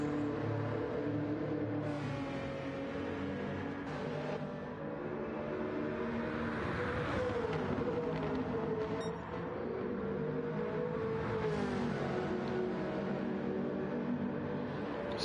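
Race cars lapping in Gran Turismo 7, a steady blended engine drone with rising and falling revs as cars accelerate and shift, heard continuously at moderate loudness throughout.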